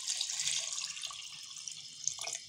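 Water pouring into a cooking pot for yakhni pulao, a bright splashing stream that runs steadily close by, then falters and trickles near the end.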